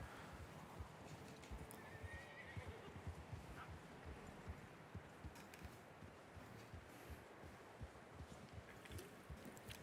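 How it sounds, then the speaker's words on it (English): A horse in snow in the video game Red Dead Redemption 2, steady soft hoof crunches in a rhythmic plod, close, with a brief whinny and faint creaks over a dense background. "Like this horse interaction with the snow."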